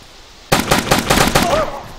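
A rapid burst of automatic gunfire erupts suddenly in DayZ PvP combat. The loud shots crack several times in quick succession, followed by a brief fading tail.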